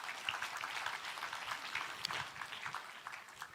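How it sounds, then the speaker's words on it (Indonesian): Faint, somewhat distant applause from an audience at a police school inauguration and education opening ceremony, many scattered claps blending into a light, uneven patter. "Tepuk tangan untuk anak-anak kita."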